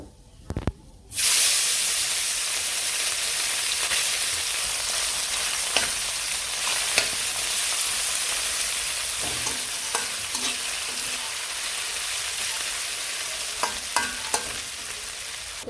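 Small fish sizzle in hot oil in a village kitchen: a steady, loud hiss that rises sharply after a brief quiet start and holds with scattered pops and crackles.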